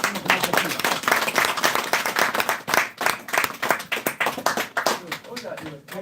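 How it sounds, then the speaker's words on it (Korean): A lecture audience claps to welcome the speaker to a talk on North Korea's nuclear issue and reunification, with crisp individual hand claps close by, building then thinning into scattered claps. "우리 강사님 나오실 때 박수로 환영해 주시면 고맙겠습니다."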